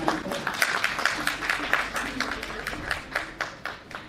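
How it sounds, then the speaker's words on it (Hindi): An audience at a Patna Women's College academic session claps to welcome a professor to the podium, a steady patter of many hands at moderate distance with clear individual claps, under faint voices. "तालियों से स्वागत कीजिए मैम को।"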